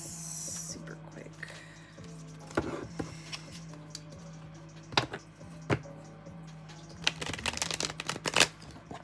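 A deck of playing cards is shuffled quickly by hand, with crisp riffles and sharp snaps that come in bursts and grow busier toward the end, close to the microphone over a low steady hum.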